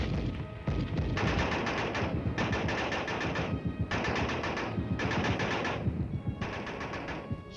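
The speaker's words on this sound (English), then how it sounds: "A machine gun team fights a risky and vital delaying action." Sustained machine gun fire from a team in an army field exercise, long rapid bursts separated by brief pauses, loud and close with no talk.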